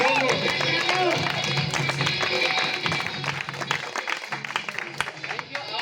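A meeting crowd applauds Sanjeev sir with continuous, loud clapping that thins slightly toward the end, mixed with murmuring voices and talk.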